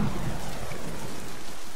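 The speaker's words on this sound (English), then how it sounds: "You should be able to heal off of Chaac's rain." Chaac's rain ability in the Smite video game produces a steady hiss of heavy rainfall with a low thunder-like rumble, loud and continuous, with no speech over it.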